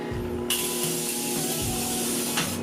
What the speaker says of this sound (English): It's just one spray. It's in an aerosol can, which I really like that.